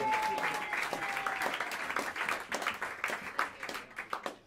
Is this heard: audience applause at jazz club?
yes